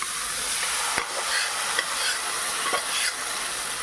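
Salted, pressure-cooked green gram dropped into hot oil for a thoran, giving a steady, close hissing sizzle throughout, with a few soft taps of a spoon against the pan and no talking.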